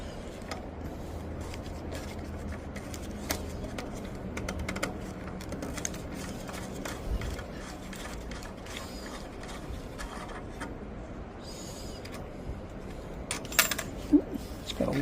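Metal hardware on a Schwinn bicycle seat is worked loose: clicking, ratcheting wrench turns and small clinks of bolts and washers, close and fairly quiet, with brief talk.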